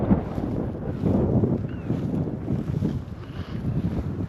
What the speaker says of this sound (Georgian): კი ვიცოდით რომ ქარი იქნებოდა, მაგრამ ვფიქრობ ცოტა მეტია რა.